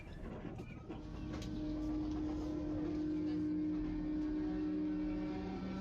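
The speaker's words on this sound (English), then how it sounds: "And as we rattle our way out of Skopje," A Chinese-built Macedonian Railways train rumbles steadily along the rails out of Skopje, with a low continuous drone and a faint whining tone, the noise building slightly and staying even throughout.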